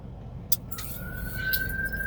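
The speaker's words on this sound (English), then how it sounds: "Oh, ambulance!" An ambulance siren wails on a road in Honolulu, Oahu, heard from inside a moving car over the low road rumble. Its steady tone begins faint and grows gradually louder as it draws near.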